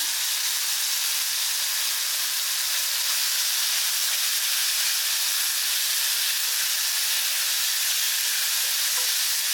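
Curry leaves and tomatoes sauté in a hot pan for a Tamil home-style dish, giving off a steady, loud sizzling hiss that holds unbroken and even the whole way through, with no voices.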